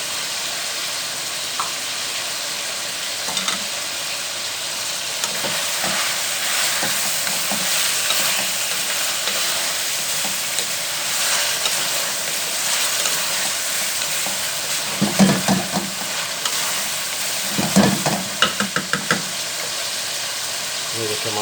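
Chicken frying in a kadai with a spoonful of white cumin, giving a loud, steady sizzle and hiss punctuated by occasional clanking scrapes of a spatula against the metal, close up.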